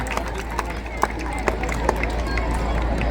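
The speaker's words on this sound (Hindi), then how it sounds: "ऐसे चिकित्सक का जोरदार तालियां बजा करके अभिनंदन, स्वागत।" An audience gives loud, continuous applause at a district hospital award ceremony in Nawalgarh honouring a doctor. The dense clapping fills the whole three seconds, with a few sharper claps standing out and voices mixed in.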